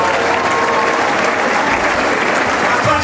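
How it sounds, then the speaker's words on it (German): Loud, sustained applause from a theatre audience at a stage anniversary show, steady and dense clapping throughout with no break. "Vielen Dank. Applaus!"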